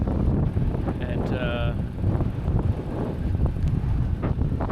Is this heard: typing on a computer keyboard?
no